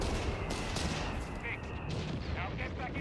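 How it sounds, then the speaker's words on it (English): Artillery fire in the World War II strategy game Company of Heroes 3, a rumbling barrage of low booms and crackling impacts filling the short stretch, with a voice talking over it. "We'll boom here, then more artillery fire."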